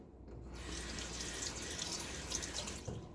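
Tap water pours steadily into a sink to hydrate shaving lather, a close, continuous splashing stream that starts abruptly and runs without pause.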